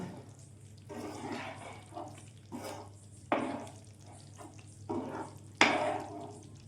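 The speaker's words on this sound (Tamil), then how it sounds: "கைவிடாமல் கிண்டிகிட்டே இருக்கணும்" Thick ghee Mysore pak batter being stirred nonstop in a pan, giving repeated scraping, sloshing strokes in bursts over a steady low hum, close and moderately loud.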